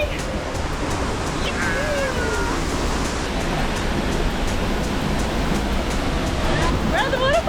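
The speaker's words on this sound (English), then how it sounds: "We're at the waterfall!" Waterfall at Hunua, New Zealand: a steady, loud broadband roar of falling water fills the scene throughout, with excited voices and shouts breaking in over it near the start and end.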